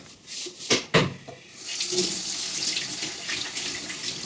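Hands being washed under a running kitchen tap: a few splashy knocks, then a steady close stream of water splashing into the sink, continuing to the end.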